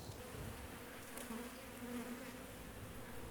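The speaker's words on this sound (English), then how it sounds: "so we can keep a careful control of the bee society" Honeybees buzz inside a hive fitted with monitoring sensors, a dense, continuous, steady drone of many insects with a faint higher whine drifting through, close and alone without any talk.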